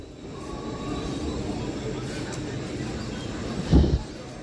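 A MEMU local train pulling away from Moula Ali station, with a steady low rumble of rolling wheels and a brief louder clunk near the end.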